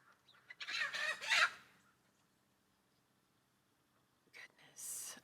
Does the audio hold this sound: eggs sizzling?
no